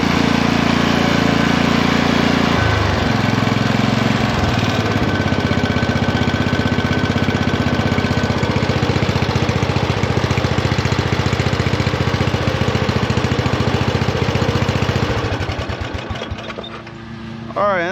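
A Murray Select riding lawn mower engine with a newly replaced carburetor, running loud and steady close by with a constant rough drone, easing off slightly near the end.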